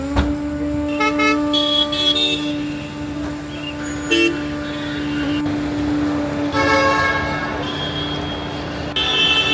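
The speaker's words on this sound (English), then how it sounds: "Have you ever been to a louder airport scene at 6 in the morning?" Busy early-morning traffic outside an airport in India around 6 a.m., with repeated car horns honking over a steady road rumble and engine drone, some horns close and loud, others further off.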